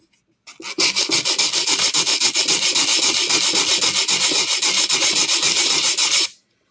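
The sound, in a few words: hand sanding wood with sandpaper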